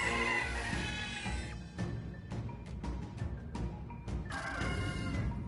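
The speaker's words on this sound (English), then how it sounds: "It looks like a cockatrice. Is this one of the strange birds we heard about?" Cockatrice bird monster in the game Metaphor: ReFantazio, giving shrill squawking, crowing cries interrupted by sharp thuds and clatter, loud and close.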